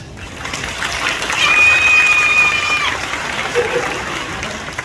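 An outdoor crowd at a Disney's Animal Kingdom bird show claps in a sustained wash that swells in the middle, while a thin, high whistling tone rises above it briefly.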